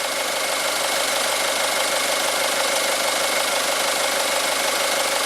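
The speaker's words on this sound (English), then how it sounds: "the engine's nice and sweet sounding" A car engine idles steadily at close range, a continuous even rumble with a faint rhythmic tick and no voices.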